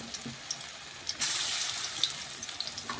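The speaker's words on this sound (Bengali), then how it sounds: "এখন ছোট্ট ছোট্ট বড়ার আকারে আমি তেলের মধ্যে দিয়ে দিচ্ছি" Small lentil fritters dropped into hot oil, a soft crackle that swells abruptly into a steady bright sizzle and bubbling, close and even, with no voices.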